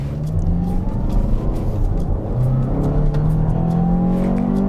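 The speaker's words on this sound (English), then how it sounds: "I am having to accelerate just to stay ahead of the vehicle in front of me" A 2017 Toyota RAV4 Limited accelerates on the road, its engine note climbing in rising whirring sweeps over steady road and cabin rumble.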